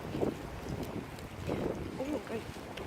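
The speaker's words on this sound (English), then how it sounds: "Because it's quite windy up here." Steady wind buffets the microphone at a beach in Mallorca, a continuous rough rush with slow gusts, and a voice murmurs faintly beneath it.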